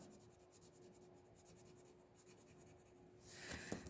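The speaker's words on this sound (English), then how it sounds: "Yeah, I'm using the blue shading pencil." A blue shading pencil rubs on paper in quick, repeated close strokes while the drawing of a surreal eye is shaded, ending in a brief louder scrape.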